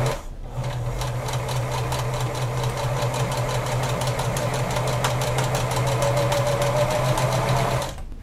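A sewing machine runs continuously while stitching the strap of a top, giving a loud, close, steady mechanical whir with a rapid needle rhythm that starts abruptly and stops near the end.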